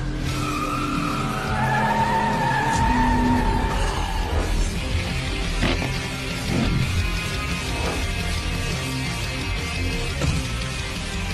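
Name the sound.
racing cars skidding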